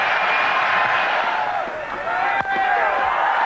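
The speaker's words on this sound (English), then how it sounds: "Tremendous ovation here from the crowd." Cricket stadium crowd at a one-day international giving a standing ovation as Sachin Tendulkar reaches his century, a broad sustained roar of cheering and clapping with a commentator speaking over it.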